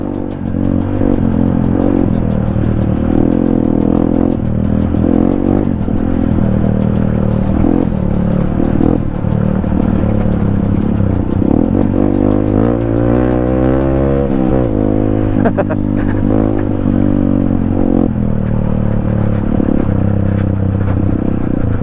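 A motorcycle engine drones continuously and loudly up close, its pitch rising and falling as the rider accelerates and eases off.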